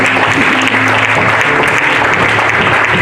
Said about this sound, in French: Acclame très fort l'Éternel.